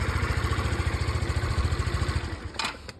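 A scooter engine idles close by with a steady, fast putter that runs evenly and then falters slightly near the end, followed by a brief clatter.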